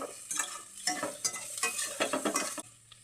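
Chopped onion stirred in a hot pan, with repeated close scraping and clattering spoon strokes over a steady sizzle, loud and busy for about two and a half seconds before easing off, no voices.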